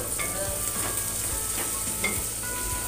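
Onion and tomato roast in a pan with a constant close sizzle and a few light scrapes of a spoon against the metal, steady throughout and with no voices.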